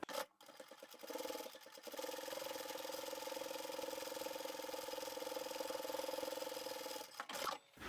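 A sewing machine runs steadily for about five seconds, stitching the long edges of a drawstring dilly bag's lining and outer fabric at a quarter-inch seam. Brief starts and stops at the beginning and end, close and fairly quiet.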